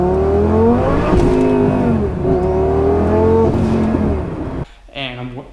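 A twin-turbo Lamborghini on Michelin Pilot Super Sport summer tires spins its wheels on a cold road, the engine revving loudly and steadily up and down before the sound drops off abruptly near the end.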